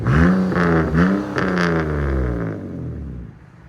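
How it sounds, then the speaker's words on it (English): A BMW Z3 with a 3.0-litre inline-six and muffler-delete exhaust revs loudly up close in a few rising blips, then settles into a lower droning idle. "It is completely muffler delete."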